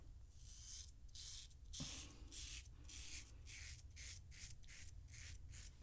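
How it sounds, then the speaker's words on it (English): Cheap Caveem safety razor scraping through five days of stubble, a series of close, raspy strokes with soft pauses between them, quiet overall. "I am shaving off 5 days of growth."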